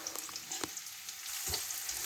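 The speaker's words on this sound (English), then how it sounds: "we're going to add the onions. So the onions are going together." Onions hit a pan that already holds sprouts and egg. A soft, steady sizzle follows, close but quiet, with a couple of light stirring clicks.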